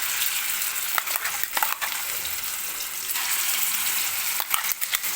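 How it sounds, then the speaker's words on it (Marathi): Onion-tomato gravy for mutter paneer sizzles and crackles as it goes into a wok of hot oil with whole spices such as cardamom, a steady close frying hiss with brief stirring clatters and no talking. "आता मी याच्यामध्ये टाकणार आहे आपण तयार केलेली ग्रेव्ही"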